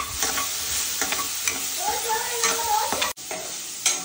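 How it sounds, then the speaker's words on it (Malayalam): Ginger garlic paste and small shallots sizzle and fry in hot oil while a spoon stirs and scrapes the pan in repeated strokes, close and steady, with no talk. "അത് എണ്ണയിൽ നന്നായിട്ട് വരട്ടിയിട്ട് കൊച്ചുള്ളി ഇട്ട് നന്നായിട്ട് ഇളക്കി വരട്ടിയെടുത്തു"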